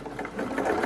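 A sewing machine stitching a Japanese patchwork pouch runs with a steady, fairly quiet mechanical whir and light rhythmic needle ticking, close by with no talk.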